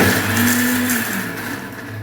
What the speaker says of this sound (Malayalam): മുളകും ഇഞ്ചിയും വെളുത്തുള്ളിയും കൂടി ഒന്ന് ക്രഷ് ചെയ്ത്